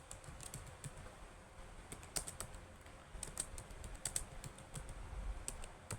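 Python code is typed on a computer keyboard, a quiet, steady patter of crisp key clicks at irregular intervals over faint room noise, with no talking.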